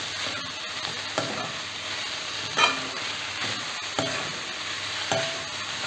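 Onions and capsicum frying gently over a low flame, a steady close sizzle broken by periodic scraping stirs of a spatula against the pan.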